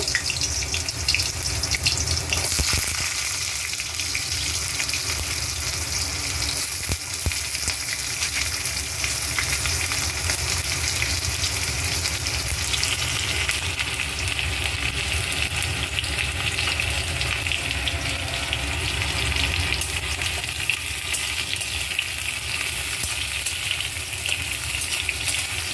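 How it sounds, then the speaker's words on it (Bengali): Potatoes deep-frying in oil for a Bengali duck egg dish, a loud, dense, continuous sizzle that holds steady and close for the whole stretch, with no voices. "আলুটা একটু লাল লাল করে ভেজে নেব।"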